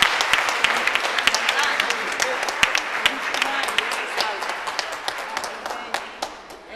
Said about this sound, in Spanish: Un aplauso, vamos a cantarle cumpleaños.